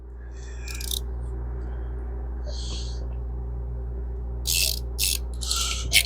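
A driver bit turns out screws from a golf club storage rack, giving short whirring ratchet bursts against a steady low hum, close and distinct with pauses between.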